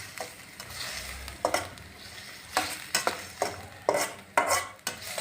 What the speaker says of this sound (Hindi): अच्छे तरीके से मिक्स करेंगे